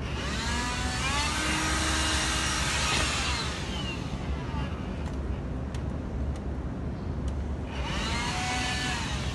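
Vacuum cleaner running steadily while cleaning the floor of a Tesla car, a continuous broadband whoosh and whine that stays loud and close throughout, shifting slightly as the nozzle moves, with no talking.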